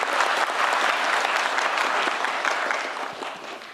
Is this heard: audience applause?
yes